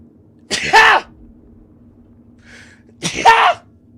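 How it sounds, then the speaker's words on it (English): A single person sneezes twice, two sharp close bursts about two and a half seconds apart, during a game livestream, with a faint hum and a brief soft sound between them. "I'm gonna sneeze."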